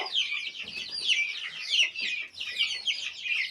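A chicken clucking close by in a barnyard, repeated bursts of raspy clucks in an uneven rhythm, moderately loud with no talk over them.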